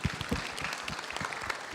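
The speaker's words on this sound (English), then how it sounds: "Let's applaud him for his service, too." Audience applause at a Q&A session of the United Chambers of Commerce of San Fernando Valley, a steady patter of clapping from a crowd that carries through the short moment without any talk.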